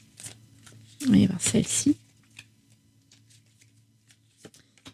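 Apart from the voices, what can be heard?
drawing and handling tarot cards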